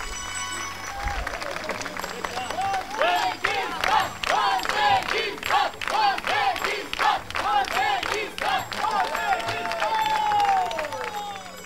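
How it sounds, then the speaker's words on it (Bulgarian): Audience applause and cheering at a European folklore dance championship in 2019, a sustained dense wash of clapping from a large crowd, steady and loud throughout, with a voice rising over it near the end. "Аплодисменти отново!"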